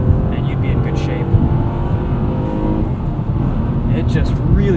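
A 2016 Honda Accord V6 coupe with a six-speed manual accelerates hard, its steady engine drone heard from inside the cabin with a loud, continuous low roar and faint talk at the end.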